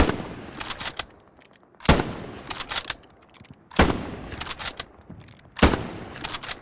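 K98 bolt-action rifle fired in Hell Let Loose, four sharp, loud single shots spaced roughly two seconds apart, each trailed by quieter bolt and handling clicks.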